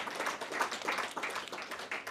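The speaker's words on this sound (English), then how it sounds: "So let's clap for each and every one of us." Audience applause at a career fair, a soft, steady patter of many hands clapping together, distant and fairly faint, with no talking over it.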